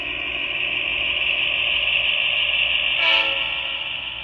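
Quantum Sound audio from an Atlas Gold Series EMD SDP35 model diesel locomotive plays as a loud, steady engine drone with a brief brighter swell near the end, heard alone.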